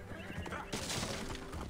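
A horse in the video game Assassin's Creed Origins gives a loud, close whinny lasting about a second, with hoof clip-clop and ambient game sound around it.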